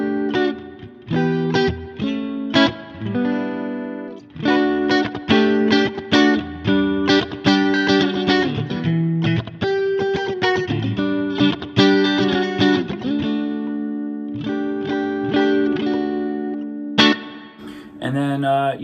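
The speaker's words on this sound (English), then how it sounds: "You can add other like modulation effects. So right now I have a chorus active." Electric guitar played through a digital amp with chorus modulation, shimmering distorted chords and single notes strummed in bursts, loud and close, with no talking.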